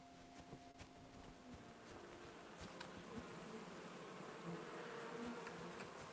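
Bees buzz steadily around beehives in Kingdom Come: Deliverance II, a faint, continuous droning hum with a few tiny clicks, heard alone.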